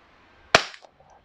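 A single sharp shot from an Umarex Glock 19 airsoft pistol, a loud close crack with a quick decay, then quiet.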